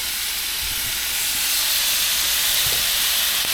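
Boneless beef short ribs browning in a pan produce a loud, continuous broadband sizzle and hiss that holds steady throughout, with no voices.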